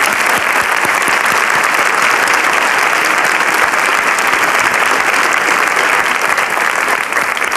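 A television game show studio audience applauds at the final episode of Des chiffres et des lettres in Monaco, loud, dense, sustained clapping that holds evenly throughout without any talking.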